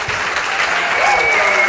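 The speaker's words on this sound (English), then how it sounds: "You guys are getting a standing applause." A live debate audience gives a standing ovation, dense continuous applause filling the room at steady loudness, with a faint voice or whistle rising briefly over the clapping.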